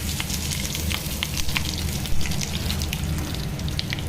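Mustard seeds and curry leaves crackle and sizzle in hot oil while tempering for rasam, a dense, steady spitting with sharp popping bursts throughout, close and fairly loud.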